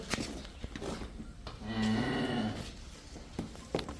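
A single drawn-out cow moo, loud and close, lasting about a second, with some shuffling and clatter around it.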